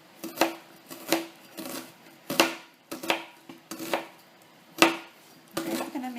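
A knife slices through onion halves on a cutting board for baked potatoes with caramelized onions, giving about eight crisp, evenly spaced chops close up with no talking.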